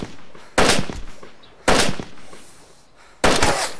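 Three loud, sharp gunshots go off in DayZ, spaced a second or so apart, each a close crack with a short ringing tail and no talking between them.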